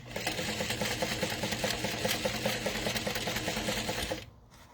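Sewing machine stitching a curved seam on a vinyl wallet at a 3.5 stitch length, a steady fast needle clatter running close and loud, stopping abruptly at the end.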